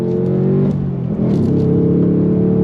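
A 2024 Ford Mustang GT with a V8 accelerating on throttle on a twisty road, a loud, close, continuous engine drone with a steady deep rumble that rises slightly in pitch mid-pull, heard from inside the car.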